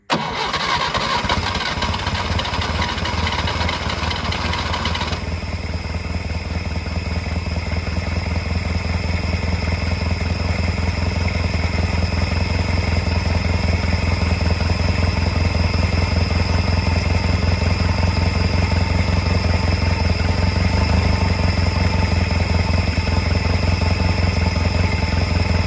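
A 1958 Peugeot 403 pick-up engine runs with its air filter removed, giving a loud, steady, rough idle that drones on without pause after a brief starting surge.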